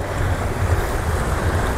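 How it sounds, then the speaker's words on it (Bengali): Sea surf washing onto a beach shore at Corbyn's Cove near Port Blair, a continuous rumbling wash of waves mixed with wind buffeting, close and fairly loud. "আর এই সমুদ্র"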